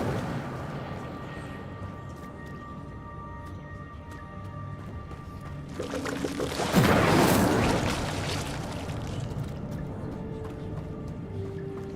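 An Incendio fire spell cast in Hogwarts Legacy, a sudden whooshing burst of flame swelling loudly for a second or two over quiet ambient game music, then fading.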